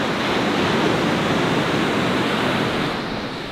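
Surf rolls in from a dark gray winter ocean with a small swell, a loud unbroken wash of breaking waves with some wind noise on the microphone and no talking.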